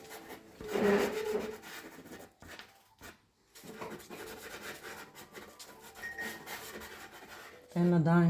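Dry pastel rubbed broadly across paper to block in grass for a quick monochrome landscape sketch, a continuous soft scratchy rasp of varying pressure, close and steady, briefly pausing before resuming.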